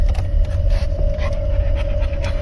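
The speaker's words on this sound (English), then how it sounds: "Sounds like they have a dog near there." A dog pants close by in quick, steady, rhythmic breaths that carry on without a break, loud and unaccompanied by any talk.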